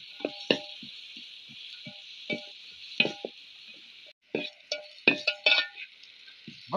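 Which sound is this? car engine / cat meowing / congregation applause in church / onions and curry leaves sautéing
onions and curry leaves sautéing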